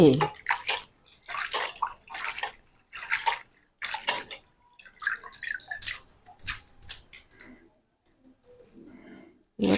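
Chopped coriander leaves being washed in water while cooking a spicy fish curry: repeated splashing and sloshing bursts up close, separated by short quiet gaps.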